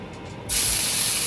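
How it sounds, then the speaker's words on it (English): Meat hits a hot pan and a loud, steady searing sizzle starts suddenly partway through and continues without a break, with no talking. "there's nothing more exciting than a good sear and sizzle"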